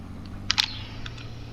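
A few light computer keyboard key clicks tapped quickly in a small cluster, close and fairly clear over a quiet room background during keyboard-and-mouse play of a truck driving game.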